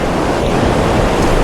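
A rushing river and waterfall in the Zanskar valley roar as a steady, dense wash of broadband noise, loud and continuous with no break, heard up close from a bridge.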